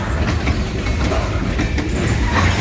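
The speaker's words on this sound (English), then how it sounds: "there's a train coming by" A Mass Central Railroad train rolls past close by on the tracks near a CSX siding, a loud continuous rumble with rhythmic clickety-clack of wheels and faint squealing throughout.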